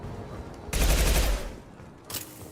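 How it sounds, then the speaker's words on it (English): A submachine gun fires in Mass Effect 2 Legendary Edition: one loud rapid burst lasting under a second, then a shorter follow-up burst a moment later. "I hate this submachine gun so much"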